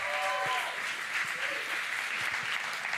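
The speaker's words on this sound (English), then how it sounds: "let's give him a round of applause" Steady applause from a church congregation, a dense continuous patter of many hands clapping throughout with no voices over it.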